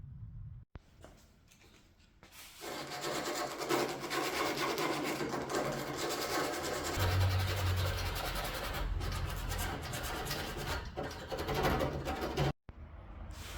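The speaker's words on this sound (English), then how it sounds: "So that's done with 400 grit sandpaper." Hand sanding of a Volkswagen Golf MK2 GTD body panel with 400 grit sandpaper makes a continuous, close, dry rasping rub that keeps an even pace, with no voices.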